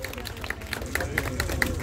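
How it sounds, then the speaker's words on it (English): Audience applause at a Friday night pin-up and burnout car event, a short burst of scattered clapping over crowd murmur, moderately close. "let's give these two ladies a round of applause"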